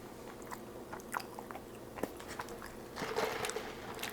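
A Taco Bell taco bitten and chewed close to the microphone, with a crisp crunch at the bite followed by a run of wet, crunchy chewing sounds and no talking.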